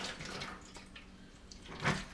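Distilled water pours and splashes into a boiling container nearby, a soft uneven trickle ending in a brief louder slosh.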